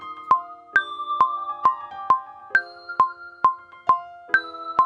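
Delicate single piano notes struck one at a time at an even pace, stepping downward in a slow chromatic line, each ringing out briefly.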